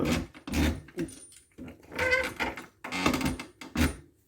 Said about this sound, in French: Vous entendez? Ça grince un peu.